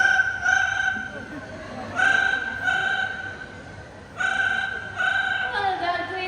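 At a bird show, a parrot imitates a ringing telephone: repeated bursts of bright electronic-sounding trills in pairs, separated by short pauses, clear and close over faint background murmur.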